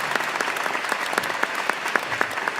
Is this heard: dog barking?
no